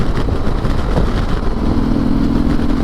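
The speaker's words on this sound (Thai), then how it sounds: "ผมชอบอัตราเร่งฮาเล่มากเลยโอ้โหแม่งกดทีพุ่งพุ่งพุ่ง" A Harley-Davidson motorcycle engine roars continuously as it accelerates, sixth gear, loud and steady with a rising mid-range drone, heard up close from the rider's position.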